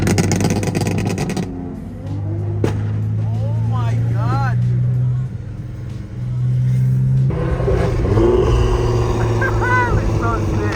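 A BMW G80 M3 drives by with a deep, loud exhaust rumble that swells as it passes. It accelerates hard again near the end, while bystanders exclaim excitedly.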